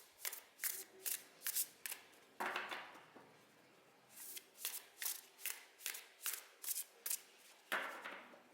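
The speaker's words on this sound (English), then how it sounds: "I'm gonna shuffle the cards until I feel the deck is ready" A deck of tarot cards is shuffled close by in repeated crisp bursts, each riffle a sharp flutter, coming in quick runs with brief pauses between them.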